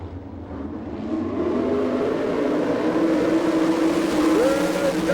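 Super sprint race cars in an All Star Circuit of Champions heat at Abbottstown, Pennsylvania, make a steady, loud engine roar that builds after the first second and carries on with a droning, rising pitch.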